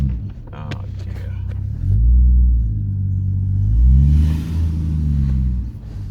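A Toyota Supra Mk3 with a 3.0 engine pulls away in first gear, its engine a loud, close low rumble that swells twice as it revs.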